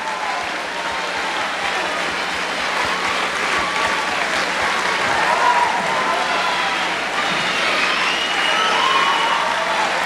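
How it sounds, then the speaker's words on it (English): A school audience claps for teachers and staff in sustained, loud applause, a dense crowd of hands that carries on steadily for the full ten seconds, with a few cheers and murmurs mixed in. "Could all the teachers and all the staff please stand for a round of applause?"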